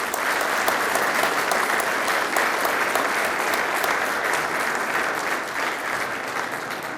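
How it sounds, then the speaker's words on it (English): Sustained, dense applause from a large audience at a chamber of commerce manufacturing awards ceremony, loud and steady throughout with no break. "Let's give them a round of applause."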